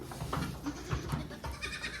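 Several goats, including young kids, bleat in short overlapping calls on a farm, close and fairly loud, with no talking.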